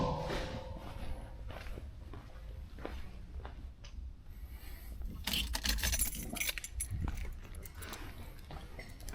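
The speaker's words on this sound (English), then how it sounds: "Let me get the keys." Car keys jangle and clink for a 1969 Buick Electra 225, a close, bright metallic rattle in several bursts with handling noise and shuffling between, no talking.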